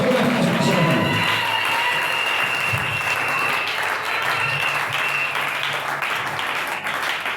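A church congregation applauds with steady, dense clapping that continues throughout, with cheering and a voice over a microphone mixed in.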